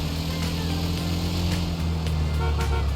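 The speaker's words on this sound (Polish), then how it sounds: "O, to ma trąbkę." A steady engine drone with a short horn toot near the end, heard alone without talk, from a vehicle in the video game GTA Online.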